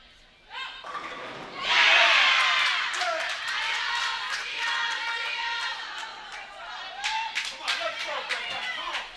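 Spectators at the 2018 Prairie View A&M Invitational college tournament burst into loud cheering, clapping and whoops that swell and then keep going, with a commentator talking over the noise.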